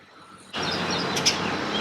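A house sparrow chirps close by in a potted-plant garden, bright short calls over a steady hiss after a quiet opening.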